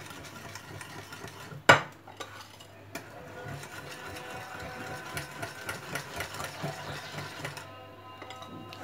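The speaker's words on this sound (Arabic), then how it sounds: "نبقى نضيف السميده بشويه بشويه وانايا تنخلط هاد المكونات باش تندمج" Cake batter stirred in a bowl while semolina is added gradually, giving a soft, steady scraping and swishing close by, with one sharp knock near the start and a low hum running underneath.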